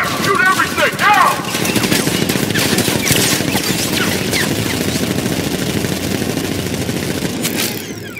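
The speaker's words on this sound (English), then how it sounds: "Gun! Up and fire! Shoot everything!" Rapid automatic cannon fire from the Batmobile in Batman Arkham Knight, a loud, dense stream of shots rattling continuously for several seconds over engine rumble, with a brief whooshing effect near the start and end.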